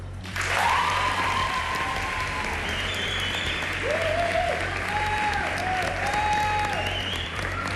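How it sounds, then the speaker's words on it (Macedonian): A live television talent-show audience at a Macedonian Idol gala breaks into loud, continuous clapping for a contestant, the applause swelling quickly and holding steady, with high whistles and cheers rising over it. "Аплауз за Кат."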